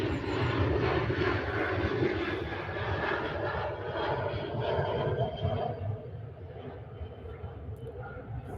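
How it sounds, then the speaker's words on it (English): An Etihad Boeing 777 jet roars at Manchester Airport, its engines a loud, sustained rumble that holds steady before gradually easing and fading; faint voices sit beneath it. "the next to go is the Etihad 777"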